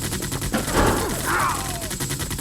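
Gunfire from Great War Age units in a strategy video game: a dense, continuous crackle of rapid shots with a ricochet-like whine rising above it, loud and close, with no talking.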